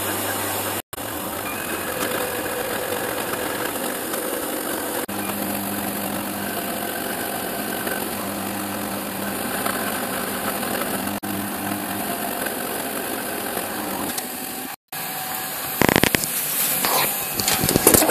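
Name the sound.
machine slowly cutting a part at shallow depth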